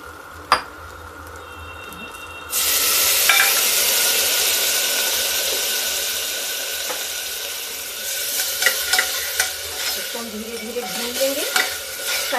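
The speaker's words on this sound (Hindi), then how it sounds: "प्याज भून गया है। अभी देखिए लहसुन, ये लहसुन और अदरक का पेस्ट, ये भी हम डाल देते हैं।" Garlic-ginger paste hits a pan with fried onions and sizzles loudly, with a steady hiss and scraping stirring sounds close to the mic.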